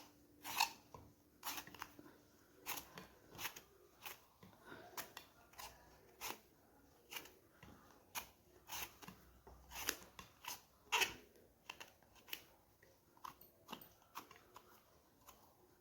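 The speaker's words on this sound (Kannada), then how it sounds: "ನೋಡಿ ಮೊದಲಿಗೆ ಬದನೆಕಾಯಿ ಮೇಲಿರೋ ಸಿಪ್ಪೆ ಎಲ್ಲ ತೆಕ್ಕೋಬೇಕಾಗುತ್ತೆ." An eggplant being peeled in a kitchen, producing a series of short, crisp scraping strokes in an uneven rhythm, close and fairly quiet, with no talking.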